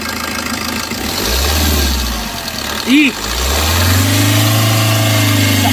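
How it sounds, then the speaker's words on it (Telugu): A 2012 Maruti Suzuki Ertiga ZDI diesel engine cranks and catches, idles in a steady low rumble, then rises under light throttle and settles into a sustained rev, close and loud throughout. "ఫ్రెండ్స్ మళ్ళీ మీకోసం ఒకసారి కార్ ఇంజన్ స్టార్ట్ చేసి ఆఫ్ చేసి చూపిస్తాను"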